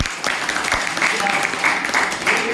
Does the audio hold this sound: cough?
no